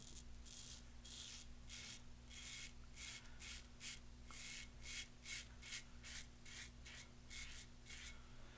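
A Razorine Flatboy razor scrapes across stubble in a run of short, crisp strokes, each a brief raspy burst in a steady rhythm, close and alone over a quiet bathroom hum.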